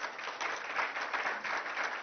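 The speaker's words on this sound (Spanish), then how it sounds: "le diéramos un fuerte aplauso al doctor Manuel" Audience at a conference giving a round of applause to the doctor after his talk, a continuous even patter of many hands clapping.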